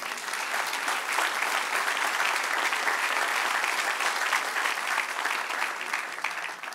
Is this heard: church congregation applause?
yes